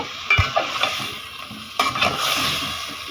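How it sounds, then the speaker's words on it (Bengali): Papaya and egg curry sautéing in a pan, giving a continuous moderate sizzle with stirring scrapes and a couple of sharper knocks, heard close and without speech. "আগে এটা একটু কষে যাক"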